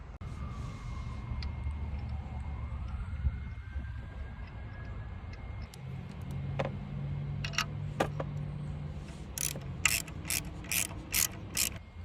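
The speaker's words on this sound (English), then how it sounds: "you can go ahead and tighten this bolt here" Ratchet wrench clicking as it tightens a bolt on a Jeep oil filter adapter during a cartridge-to-spin-on conversion, starting with slow single clicks and building to a rapid, close run of ratchet pawl clicks near the end.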